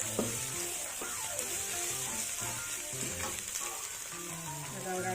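Sambal paste frying and being stirred in a pan, with a steady sizzle and repeated scraping strokes of a utensil, close and continuous.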